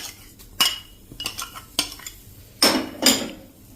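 A spoon stirs roasted sesame seeds, cashews, almonds and peanuts together in a pan, giving sparse metallic scrapes and a few sharp clinks against the pan, close and separated by short quiet gaps.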